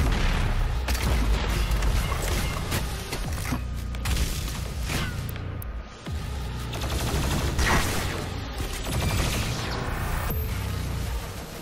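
Gunfire and explosions in DOOM Eternal, a dense, loud barrage of shots and heavy booms with mechanical clatter running continuously, no voices.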